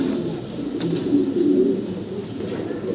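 Black Danish pigeons coo in a soft, continuous throaty rumble, several birds overlapping close by over a steady background hum.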